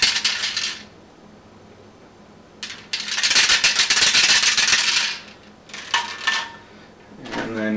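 Eggs are shaken in a shaker with a whisk ball, giving loud bursts of rapid rattling and clattering separated by short quiet pauses, with a brief voice near the end.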